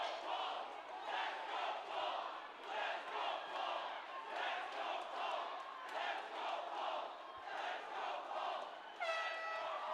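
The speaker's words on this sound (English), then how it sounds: "you can hear the crowd" A crowd at an MMA bout between Paul "PRIME" Marghitas and Deshawn White Jr in the closing seconds of the fight roars and cheers continuously, with rhythmic chanting surges and shouts, loud and steady throughout, mixed with faint voices.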